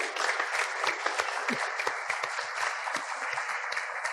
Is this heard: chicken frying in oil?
no